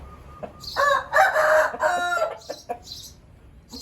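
A rooster crows loudly and close by in one long drawn-out call, followed by a few short clucking notes, with no voices in the background.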